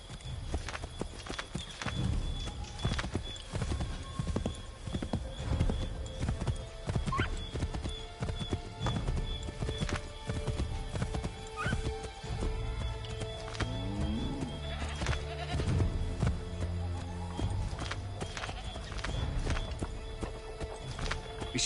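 Horse hooves clip-clop steadily through a 3D game world, with whinnies and neighs breaking in over a dense bed of music and ambient effects.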